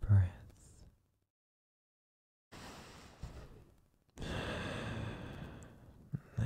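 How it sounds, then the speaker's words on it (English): A slow, deep breath taken in a quiet room during a soothing bedtime scene, heard as soft airy breathing close to the microphone, a silent pause, then a longer, fuller exhale or sigh. "Deep breath."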